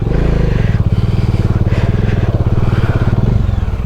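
A motorcycle stuck on a rough forest track revs hard and continuously, a loud, close, pulsing engine throb that rises and falls in rapid strokes from start to finish.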